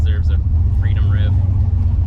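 An old turbocharged truck engine rumbles loudly and steadily at close range, with people talking and cheering over the heavy low drone.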